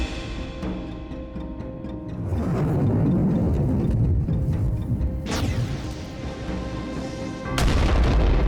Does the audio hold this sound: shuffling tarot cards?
no